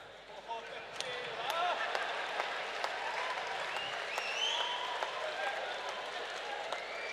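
A crowd applauds at a Hindi comedy show in Surat, with dense sustained clapping, loud and fairly close, and voices mixed in throughout.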